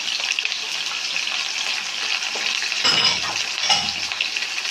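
Chopped onion and green chilli fry in a hot pan, a steady close sizzle with brief stirring scrapes partway through.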